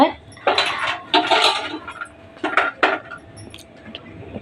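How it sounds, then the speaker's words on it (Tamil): Christmas fruit and cashews stirred into melted, caramelised sugar in a pan, giving irregular clinks and scrapes of a spoon against the pan in short bursts, close and moderately loud, with a steady faint hum underneath. "கிறிஸ்மஸ் பழம், அண்டி பருப்பு எல்லாம் போட்டு கிளறி விடணும்"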